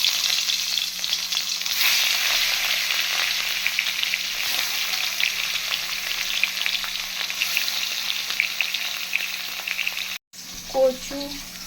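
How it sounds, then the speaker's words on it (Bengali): Rohu fish pieces frying in hot oil in a wok, a steady loud sizzle running almost unbroken before a brief cutoff and a faint clatter at the end. "কড়াই গরম হয়ে গিয়েছে, একটা একটা করে মাছ ছেড়ে দেবো।"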